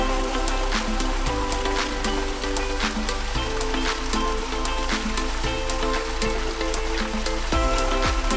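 A waterfall on a short hiking trail rushes in a continuous, even wash of broadband water noise, steady and fairly close, with faint tonal sounds in the background.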